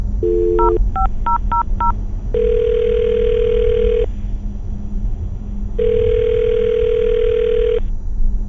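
A telephone number is dialed in a quick series of touch-tone beeps, followed by two long ringback tones with a pause between, clear and close with no talking.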